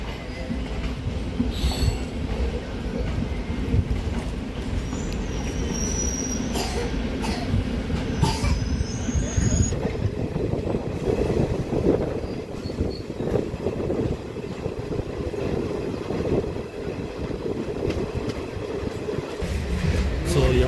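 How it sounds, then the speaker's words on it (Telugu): A DEMU local train departs Bolarum railway station, its wheels rumbling and squealing steadily on the rails with clattering carriages, loud and continuous from inside. "ఇదిగోండి మనం అయితే చేశారు మన ట్రైన్ బయలుదేరుతున్నాము"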